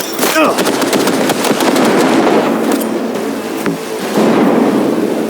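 Rapid gunfire in a Cyberpunk 2077 firefight, with loud sharp bursts of shots crowding together and fading into a rumbling tail, then a renewed volley near the end.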